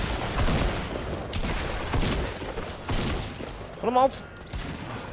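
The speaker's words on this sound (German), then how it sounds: "Alter, wo schießen die denn her?" Rapid gunfire in the Fortnite battle royale game, bursts of shots crackling under an excited player's voice, with a louder burst near the end.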